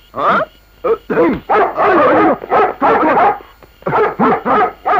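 A dog barks, yips and whimpers in a loud close run of about a dozen short bursts with brief gaps, in a Telugu film scene.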